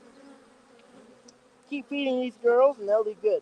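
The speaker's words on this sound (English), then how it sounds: "Try not to smush bees; they're just getting in the way." A honey bee colony at an open hive gives off a steady low buzzing hum, with close speech coming in over it partway through.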